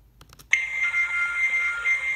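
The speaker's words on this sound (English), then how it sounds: "I love that chime." A KONE KSS 570 MonoSpace traction elevator in a shopping centre sounds its arrival chime: after a few soft clunks, a single bright electronic tone rings out and sustains steadily, loud and near.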